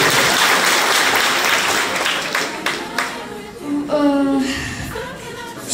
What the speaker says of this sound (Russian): давайте поддержим аплодисменты